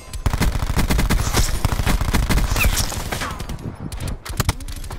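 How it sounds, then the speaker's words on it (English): Rapid automatic gunfire in the Black Ops 4 video game, a steady stream of loud close shots for about four seconds that breaks into short bursts near the end. "Sorry if I'm just shooting all over the place."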